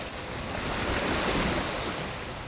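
Sea waves and a steady easterly head swell wash against a sailboat in open Mediterranean water, a loud, continuous rush of water and wind noise with no talking.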